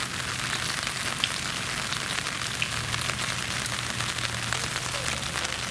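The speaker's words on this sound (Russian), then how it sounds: "сейчас на улице дождь, погода не особо и радует" Steady rain falls outdoors on a wet day in Vologda, Russia, a continuous even hiss of drops on surfaces with a low background rumble and no speech.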